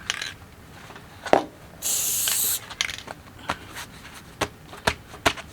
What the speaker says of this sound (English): I'm going to use my spray, and I'm just going to baste it a little bit.